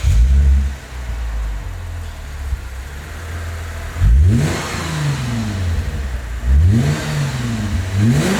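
A Lexus GS300 fitted with a custom cat-back exhaust fires up and idles with a deep, close rumble, then two sharp revs swell and fall back to idle.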